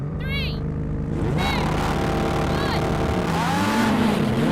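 McLaren and Porsche supercars launch together at a race start, their loud engines roaring with rising revving sweeps and gear changes; a voice can be heard over the engines.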